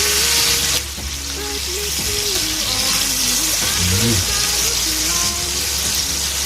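Bangus (milkfish) frying in oil in a pan gives a steady, close sizzle throughout, with a voice speaking over it.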